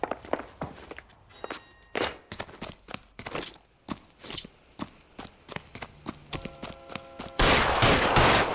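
Gunfire in L.A. Noire Remastered: a series of sharp, spaced shots with irregular rhythm, ending in a loud dense burst of noise.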